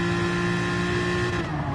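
Porsche 911 RSR race car engine in a racing video game, a steady loud high-revving drone with strong sustained tones, held constant throughout without any talk.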